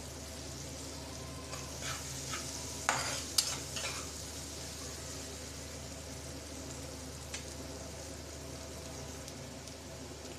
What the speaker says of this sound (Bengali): লাল লাল করে পেঁয়াজ কুচি ভেজে নেব